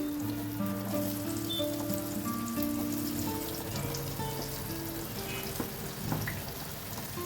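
Raw banana pieces and green beans fry in oil with asafoetida and cumin, a continuous crackling sizzle heard close, with faint scattered pops and no talk.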